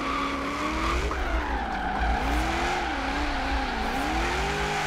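A car drifts in Forza Horizon 3 at a tandem drift event, tires squealing in long sliding wails over a revving engine whose pitch rises and dips through the slide, with no talk.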